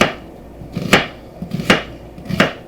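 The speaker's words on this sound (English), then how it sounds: "So we're just going to rough chop the onion." A kitchen knife rough-chops a whole onion on a cutting board: three distinct, sharp chopping thuds spaced about three-quarters of a second apart, each with a small scrape before it, close and clear with no talking.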